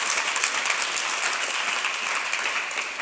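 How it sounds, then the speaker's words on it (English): A live-stream audience breaks into a round of applause, dense steady clapping filling the room at full volume without a pause. "I just want to pause and give that a round of applause."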